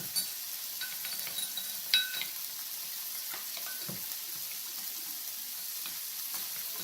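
Hot dog rice roll ingredients sweetened with a teaspoon of honey are stirred in a hot pan, giving a steady close sizzle with a few sharp utensil clinks against the pan and no talking.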